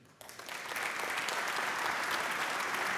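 A conference audience at an Industry 4.0 summit in Portugal bursts into applause after a talk, rising quickly from quiet into sustained, dense clapping that holds steady to the end.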